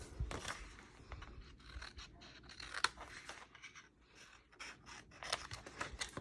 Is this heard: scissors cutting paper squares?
yes